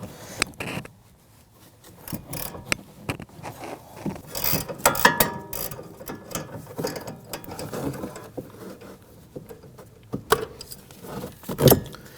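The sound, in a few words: 15mm gear wrench ratcheting on sway bar link nut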